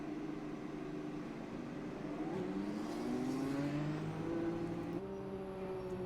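Race cars roll out of the pit lane one after another, engines rising in pitch as they accelerate and gear up, a moderately distant mechanical whine with overlapping tones from several cars.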